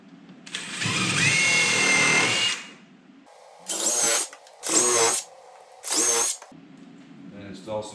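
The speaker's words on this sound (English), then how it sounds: "pre-drill these holes" A power drill pre-drills pilot holes in wood while installing cabinet drawers: one long continuous whir followed by three short, loud bursts, close by.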